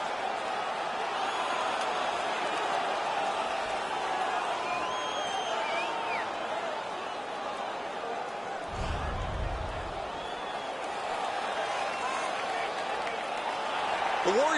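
Home crowd at an ice hockey game, Nordic Warriors versus Sakkes Office, roaring steadily in a large arena after a disallowed goal, a continuous wash of cheering with a brief low thump partway through.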